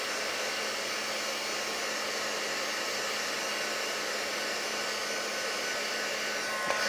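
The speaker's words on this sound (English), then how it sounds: "give it a quick blast with the heat tool to make sure it's nice and dry" A crafting heat tool blows steadily to dry die-cut paper work, making a continuous close whooshing roar with an even, unchanging level for the whole stretch.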